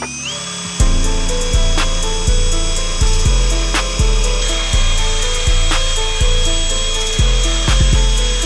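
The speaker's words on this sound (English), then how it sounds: "what I have here is a brass brush, drill bit attached to a drill" A power drill spins a brass wire brush against the rusty steel body of a 1970s Datsun Z car, grinding steadily with a loud whirring hum broken by repeated scraping strokes roughly every second.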